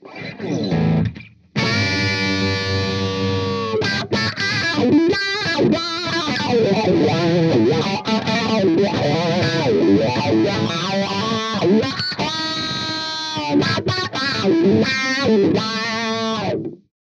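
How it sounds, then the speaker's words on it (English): Electric guitar through a Morley 2020 Distortion Wah pedal with distortion at maximum, playing loud, sustained chords and riffs with a thick, saturated tone, briefly cutting out near the start before continuing. "here's how it sounds with the distortion cranked all the way up"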